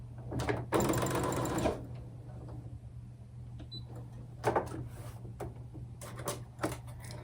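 An old sewing machine stitches through a quilt at close range, a loud dense whirring burst in the opening seconds, then quieter intermittent stitching runs over a steady low hum.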